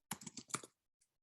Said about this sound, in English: Just typing this all down.